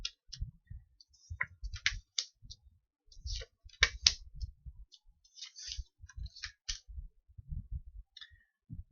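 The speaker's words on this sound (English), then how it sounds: "Just going to pull the first 10 cards" Tarot cards are pulled one at a time and laid out in a quiet room, making soft, close, irregular clicks, snaps and light slaps as each card lands, with no voices present.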